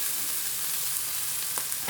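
Beans curry with fresh coconut frying in a pan gives a steady, soft sizzle that holds evenly throughout, close by and alone with no talking, brightening slightly at the very end.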